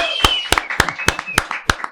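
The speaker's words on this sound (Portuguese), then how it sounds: "Então, receber aí com nossas salvas de palmas, professor Edélcio." Audience members clap in a slow, spaced rhythm to welcome a professor at an entrepreneurship talk, roughly six loud, sharp claps at about even intervals, with a sustained tone and faint voices underneath.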